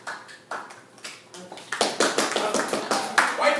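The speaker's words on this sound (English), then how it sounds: "And the crowd cheers." A crowd breaks into cheering and rhythmic clapping during a staged classroom courtroom reenactment, starting with sparse claps and swelling into a loud, dense burst of applause and voices partway through.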